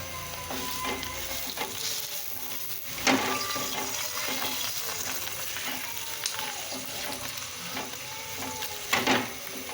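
Aloo paratha frying on a pan over low-to-medium flame, giving a steady soft sizzle throughout with occasional brief crackles and scrapes, close by and with no voices.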